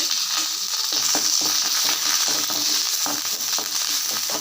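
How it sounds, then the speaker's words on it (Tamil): Curry leaves crackle and sizzle in hot sesame oil, a steady close frying hiss with small pops and an occasional light stir, with no voices. "கருவேப்பில் நல்ல எண்ணெயில் பொரிச்சிருங்க"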